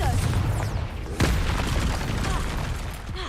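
Confringo spell blast in the Hogwarts Legacy video game, a single sharp boom rising out of a dense, busy mix of game effects and rumble.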